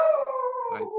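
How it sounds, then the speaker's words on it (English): A dog howls in one sustained, wavering cry that slowly falls in pitch, close and fairly loud, with no talking over it. "That's our dog."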